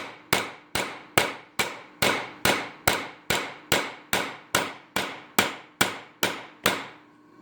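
A hammer drives a 3/16" truss head rivet with a rivet tool in about fifteen sharp, evenly spaced metallic blows, each ringing briefly, close and loud.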